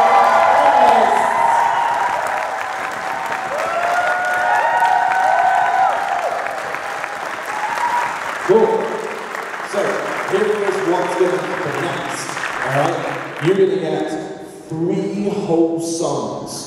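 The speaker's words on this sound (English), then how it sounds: "Give them a round of applause for" An audience at a NottingJam open mix-and-match music jam session claps and cheers loudly, a sustained roar of applause with whoops, then voices and lively crowd noise continue beneath it.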